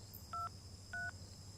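Two short electronic telephone dialing tones, evenly spaced, over a faint background hum.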